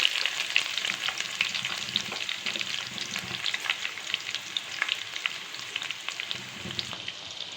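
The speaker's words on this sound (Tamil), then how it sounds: "வெங்காயம் போட்டாச்சு, நல்லா கிண்டி விட்டுடலாம்." Chopped onions frying in a pan for goat gravy, a steady close sizzle with scraping stir strokes running throughout, moderately quiet and without talk.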